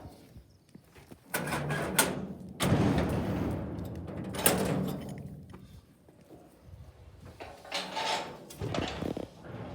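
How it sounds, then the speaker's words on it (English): A wooden shed door on a farm opens with a run of creaks, scrapes and knocks, fairly close and moderately loud, in irregular bursts over several seconds with some quieter stretches between. "we're going to open the door"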